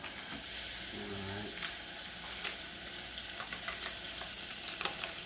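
Butter sizzling in a pan over medium-low heat, a steady soft crackle with a few sharp pops and light stirring clicks spread through it, fairly quiet and close with no voices.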